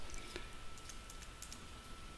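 Soft, scattered key clicks come from typing on a computer keyboard, faint and close over a low steady background hum.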